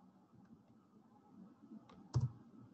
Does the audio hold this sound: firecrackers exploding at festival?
no